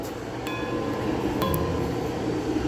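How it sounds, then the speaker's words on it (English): Old railroad signal bells at a railroad museum are flicked rather than rung, producing two faint metallic pings over steady low background rumble, with no talking. "Here's some bells and a whistle. Now, I'm not gonna ring them, I am gonna flick them."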